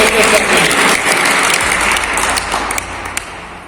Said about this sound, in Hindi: एक बार ताली हो जाएगी हमारे